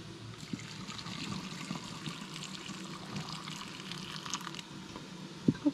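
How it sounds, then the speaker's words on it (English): Pickle brine with garlic is poured into a jar in a steady, moderately quiet trickling stream lasting several seconds, ending with a couple of small knocks. "I'm just going to pour my liquid."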